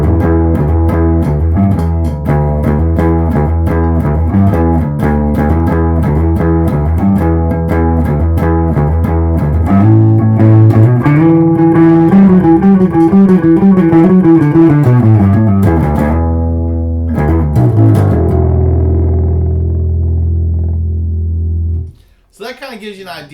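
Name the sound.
Ibanez SRX 700 bass guitar playing crazy effect tones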